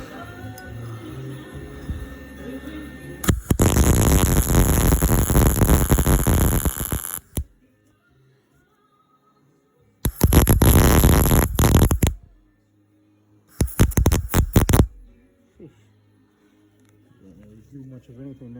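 Arc welding on a broken bolt in an LS engine, zapping weld inside the bolt hole: three loud crackling, buzzing bursts of a few seconds each, separated by quiet gaps, with faint shop noise between.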